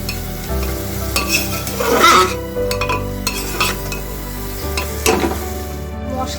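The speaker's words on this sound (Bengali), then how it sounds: "মশলাটা বেশ কিছুটা কষানো হয়েছে" Spices for chicken curry sautéed and stirred in a pan over low heat, with a steady sizzle under repeated scraping strokes and occasional metallic clinks, close and fairly loud.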